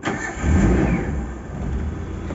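A Daihatsu Zebra Espass engine, left unused for several days, is started and settles into a steady, rough mid-pitched running rumble close by.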